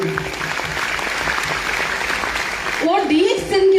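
Loud applause from an audience at a DXN success-story meeting, steady dense clapping for several seconds, then a voice cuts in over the tail.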